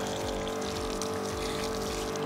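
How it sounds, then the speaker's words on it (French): Water is poured onto the bonnet of a 23-year-old BMW E46, a steady close splashing and trickling wash with a constant hiss running throughout the short stretch. "je te montre quand même avec un peu d'eau sur le capot"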